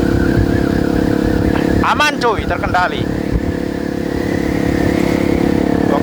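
A Yamaha WR155 motorcycle engine droning steadily while riding, close and loud with wind noise, as someone talks briefly over it.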